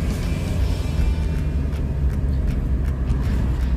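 A Mitsubishi i kei car drives along the Mount Rokko mountain road, its engine and tyre noise forming a close, continuous rumbling drone with no talk.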